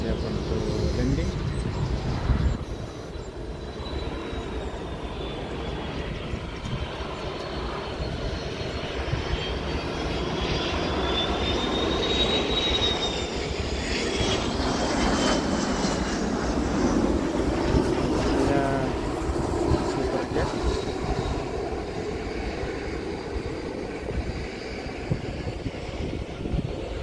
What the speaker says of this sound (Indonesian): di belakang saya sudah ada pesawat yang siap-siap untuk landing